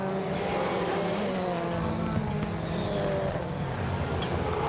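Rallycross supercars race on a track with a dense, steady engine roar at moderate distance, continuous throughout without clear passes or gaps.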